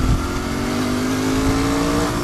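A Royal Enfield Continental GT 650 motorcycle pulls hard in second gear, its engine droning loud and close in a steady rising note that climbs in pitch throughout.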